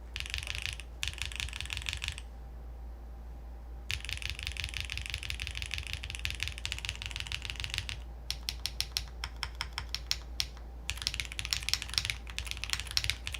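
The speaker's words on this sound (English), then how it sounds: "So let's see what the blue cheese switches do for this." Bursts of clacky typing on a mechanical keyboard with blue cheese switches, an aluminum plate, no foam and GMK keycaps, quick close keystrokes separated by short pauses over a faint low hum.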